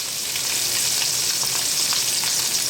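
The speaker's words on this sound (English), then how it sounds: "we're going to let this saute for just a little bit" Steak sautés in European butter over high heat, giving a loud, continuous sizzle and crackle with faint pops throughout, no talking.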